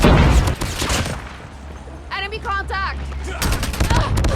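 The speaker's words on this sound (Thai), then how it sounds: "ไม่ว่าปืนคุณจะแรงขนาดไหนก็ตามแม่งลั่นเร็วเหลือเกิน" Rapid bursts of automatic gunfire from a first-person shooter game, with loud clustered shots at the start and end around a pause filled with other game sounds.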